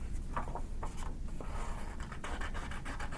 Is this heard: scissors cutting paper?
yes